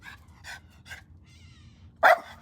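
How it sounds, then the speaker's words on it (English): A dog named Rex barks at cormorants outdoors in summer, three short barks and then one louder bark, fairly distant over a low steady background. "Rex is barking at cormorants right now"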